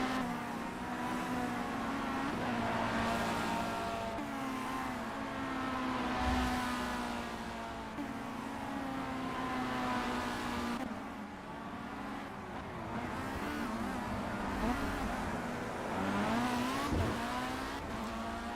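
Formula C race car engines in Project CARS at Willow Springs on the Horse Thief Mile, droning and revving steadily throughout, with pitch rising and falling as the cars accelerate and brake through the corners.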